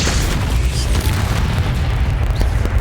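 Confringo blasting spell in Hogwarts Legacy: a dense, continuous rumble of booming blasts and low thuds with no gaps, loud and close throughout.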